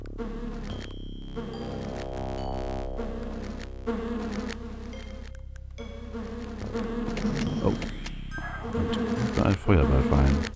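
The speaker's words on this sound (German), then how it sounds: "Und ich höre ganz viele Bienen im Hintergrund" Swarming bees drone steadily in the Land of Lore video game, a continuous layered buzz under tonal game sounds that swells louder toward the end.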